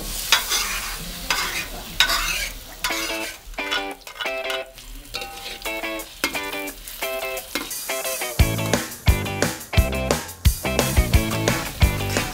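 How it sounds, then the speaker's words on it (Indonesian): Ground spice paste sautéed in a hot pan, a soft sizzle under repeated scraping and stirring strokes of a utensil, coming in uneven bursts that grow louder and busier toward the end, with no talking. "Tumis bumbu halusnya."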